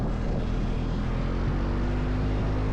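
A low-wing Grumman aircraft taking off from runway 27 at Oshkosh AirVenture, a loud, steady propeller engine roar with broad rumbling noise, close and continuous throughout.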